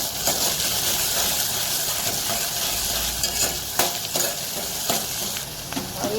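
Onion and tomato sauté in a pan with a steady frying sizzle while a utensil scrapes and stirs through them, producing irregular clinks and scrapes. The sound is close and continuous, with no talking.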